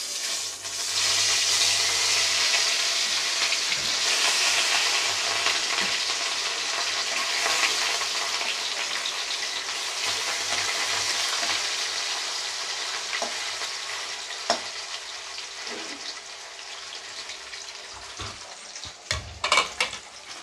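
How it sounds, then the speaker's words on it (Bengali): Pieces of rui fish frying in smoking-hot oil over a medium flame give a loud, steady, continuous sizzle, with a few light clinks of a utensil toward the end and no talking. "তো আমি মাছগুলো ভেজে নিই"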